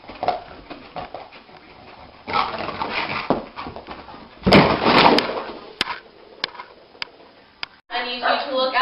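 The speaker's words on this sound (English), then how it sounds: "I need you to look outside this closed glass door and see this dog that we have here" A dog whimpers and whines behind a closed glass door, with repeated high, strained cries and panting bursts; people talk over it, and the dog's whining swells louder in the middle and near the end.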